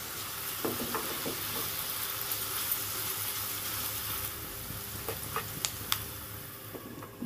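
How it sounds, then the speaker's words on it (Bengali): Onion, potato and ginger fry together in a pan with a soft, continuous sizzle, broken by scattered sharper stirring scrapes, mostly toward the end, with no talking. "এবার একসাথে সবগুলোকে ভেজে নেব"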